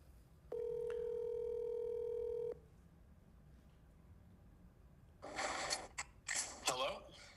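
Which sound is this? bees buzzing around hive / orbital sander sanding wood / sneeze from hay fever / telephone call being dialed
telephone call being dialed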